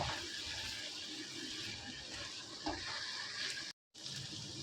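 Chicken kosha masala gravy sautéing in oil in a pan, a continuous close sizzle with stirring scrapes and a brief clatter, cut by a short gap of silence near the end.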